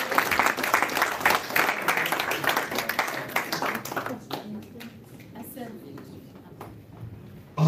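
A church congregation at a youth revival service in Paris claps and cheers in a dense burst that fades and thins out after a few seconds, with voices in the crowd.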